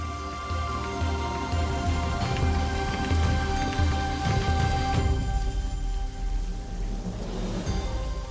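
Steady, dense rain falls throughout, a continuous close patter with deep low rumbling underneath and no voices.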